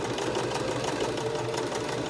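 Domestic sewing machine running steadily as it stitches down the side seam of a cotton t-shirt, a continuous close motor whir with a dense mechanical needle patter and no talking.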